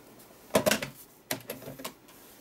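Scissors or a blade trimming excess paper from a vintage-style 5x8 lapbook, giving a few short, crisp snips in two small clusters, close and fairly quiet with no talk.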